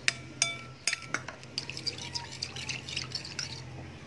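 A little water poured into a vinegar dipping sauce, sounding as a run of light drips and splashes trickling into a small bowl, close and fairly quiet.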